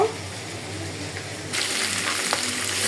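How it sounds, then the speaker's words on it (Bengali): Bitter gourd frying in a pan gives a steady hiss that jumps sharply louder halfway through and keeps sizzling densely to the end, with no voices. "এখানে নিয়েছি করলা আমি অল্প করে একটু করলা ভাজি করব"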